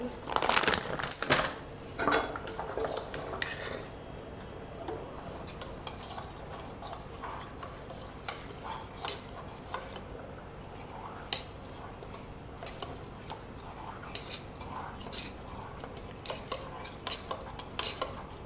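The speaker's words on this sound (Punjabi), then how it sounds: "ਇਹ ਆਪਾਂ ਲਿਆਗਾ ਮਿਲਕ ਪਾਊਡਰ ਇਹਦੇ ਆਪਾਂ 2 ਚਮਚ ਪਾ ਲਾਂਗੇ ਇਹਨੂੰ ਆਪਾਂ ਘੋਲਾਂਗੇ" A spoon stirring two spoonfuls of milk powder into cold milk for kulfi, with a burst of quick clinking scrapes at first, then sparse light taps against the bowl, close and fairly quiet.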